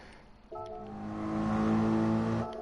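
A race car in Gran Turismo Sport at full throttle, its engine note rising into a steady sustained roar with strong harmonic tones that swell and hold before easing off, fairly close and alone without talk.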